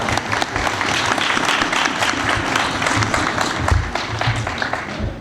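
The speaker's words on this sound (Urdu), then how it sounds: "آپ کی تالیاں خالد صاحب کے لیے رک جائیں" An audience at an annual function applauds, steady sustained clapping from many hands, loud and close, continuing throughout with a brief swell near the end.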